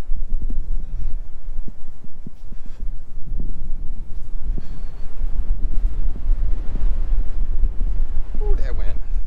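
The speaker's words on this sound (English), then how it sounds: "Ooh, that wind." Strong wind during a West Texas snow storm, about 20 mph with gusts near 30, roars steadily and loudly across the microphone for the whole stretch, with deep buffeting rumble and gusting surges.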